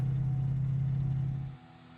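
A 1969 Chevrolet Chevelle SS 396 hot rod idles with a deep, steady rumble that drops away sharply near the end, leaving faint background noise.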